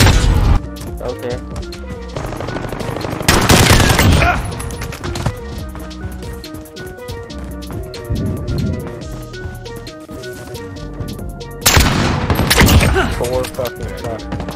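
Gunfire in Call of Duty: Modern Warfare (2019) Gun Game, with loud broadband shot bursts near the start and again around twelve seconds over a busy, continuous game soundscape of music and effects.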